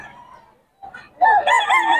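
A rooster offered for sale at a market in Bocaue crows loudly and close, a short rising call followed by a strong, wavering cock-a-doodle-doo, with some clucking before it.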